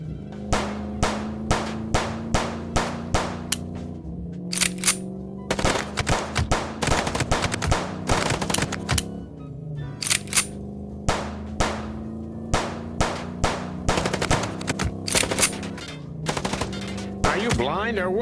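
Rapid gunfire in the video game Chicken Police: sharp, regular bursts of shots rattling out in quick rhythmic volleys with brief pauses, loud and close over a steady low engine-like drone.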